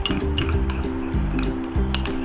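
A spoon clinks repeatedly against a bowl while peach scrub is mixed with almond oil, giving close, rhythmic light chinks over a steady low hum.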